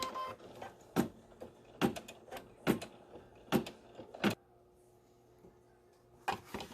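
An embroidery machine sews a placement stitch on tearaway stabilizer for an appliqué fascinator hat, giving a string of sharp mechanical bursts at an uneven rhythm over a low steady hum, close by, then falling quiet before one last burst.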